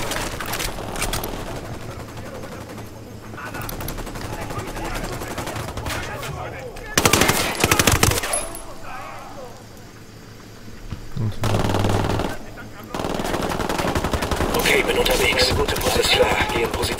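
Bursts of automatic gunfire and single shots from the video game Ghost Recon Wildlands, loud and close, with repeated rattling volleys and brief pauses, while a voice talks over parts of the firefight.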